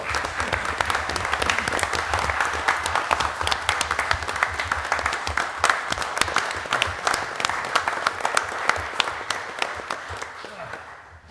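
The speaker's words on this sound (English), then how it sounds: "So give these folks a round of applause." Sustained audience applause at a meeting, with dense, steady clapping from many hands that fills the room throughout and tapers off slightly near the end.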